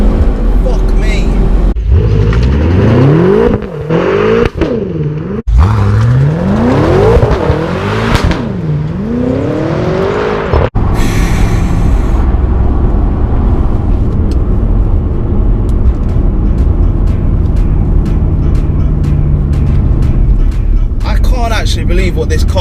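A BMW F10 M5 with traction control off accelerates hard, its engine note sweeping up and down through repeated gear changes, loud and close, before settling into a steady roar at speed while people talk over it.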